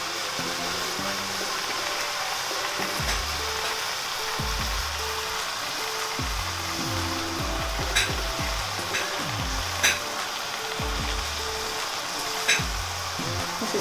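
Minced meat fries in a pan with steady, close sizzling and crackling, broken by repeated scraping and stirring strokes across the pan.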